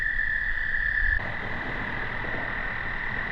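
Frogs croak loudly and steadily nearby at water at Bachelor's Grove Cemetery, a dense chorus of rasping calls with no voices.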